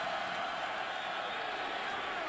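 Steady roar of a college football stadium crowd at an NC State versus Florida State game in 2013, a dense continuous wash of cheering noise with no distinct breaks.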